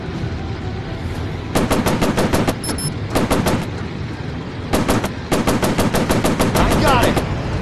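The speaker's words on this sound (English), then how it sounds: "Damn machine guns. They're overheating too fast." Aircraft machine guns in the Warplanes VR combat flight game, firing in several rapid, loud bursts separated by short pauses over a constant engine drone.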